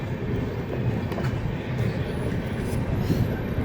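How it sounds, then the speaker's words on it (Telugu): A train rumbles steadily past on tracks beneath an elevated metro line in Agra, a loud, continuous low roar with faint wheel clatter heard from close by. "ఇక్కడ కింద నుంచి ఏమో ట్రైన్లు వెళ్తున్నాయి."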